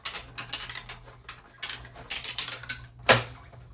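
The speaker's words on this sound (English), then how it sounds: "So I'm going to run it through my cut and emboss machine." A hand-cranked die cut and emboss machine feeds paper through its rollers, giving a close run of rapid rhythmic clicks and ratchet-like ticks with a louder clack near the end, heard alone.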